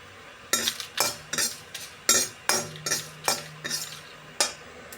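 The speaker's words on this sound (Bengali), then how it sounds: "দেখো কালো জিরাগুলো কেমন ফুটছে টুসটাস করে।" Black cumin seeds fry in a pan, giving a series of sharp crackles and pops at uneven intervals, close and fairly loud over a quiet background hiss.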